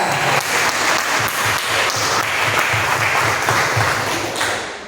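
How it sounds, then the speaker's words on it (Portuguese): A church congregation applauds for a worship moment, a loud, dense wash of clapping from many hands that fills the room and holds steady before tapering at the end. "Agora eu te convido a dar a mais forte salva de palmas ao Senhor Jesus."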